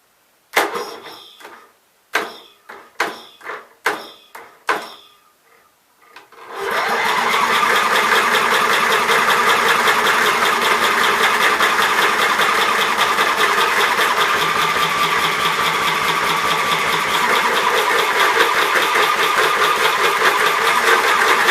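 A 16hp cast iron Briggs engine from a swap meet, first giving several sharp separate cranking bursts, then catching and running steadily and loudly with a constant mid-pitched drone for the rest of the clip, close up with no talking.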